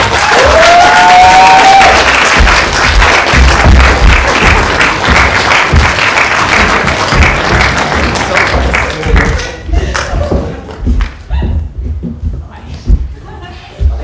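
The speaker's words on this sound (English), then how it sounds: "Can we give them all a big round of applause?" A comedy-club audience at a stand-up show breaks into loud applause with some cheering, the clapping dense at first, then thinning into scattered claps and a few voices as it dies down.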